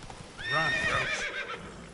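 Horse Roach, likely from a video game, whinnies with a loud rising-and-falling neigh, close and full, alongside faint hoof clatter over about two seconds.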